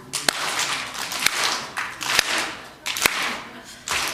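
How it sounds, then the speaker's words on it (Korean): A church congregation claps together during a service, producing sharp, loud unison claps in uneven bursts with brief pauses between them. "패배의 박수를 칩시다."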